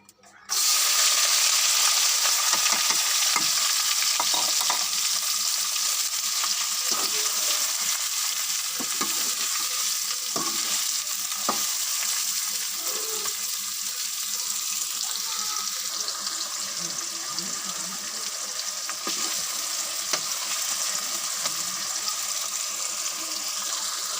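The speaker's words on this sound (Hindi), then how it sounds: "ऑयल गर्म हो गया हुआ है। अब इसमें हम डालेंगे लहसुन और प्याज।" Garlic and onion fry in hot oil in a pan, a loud, steady sizzle that runs the whole time with occasional stirring scrapes and clinks.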